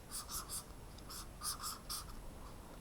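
A pen drawing boxes by hand on paper, short scratchy strokes in quick groups of two and three with brief pauses, close and quiet, no talk over them.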